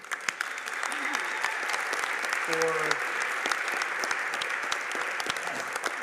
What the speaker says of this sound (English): Distributors, can we give our supplier partners a round of applause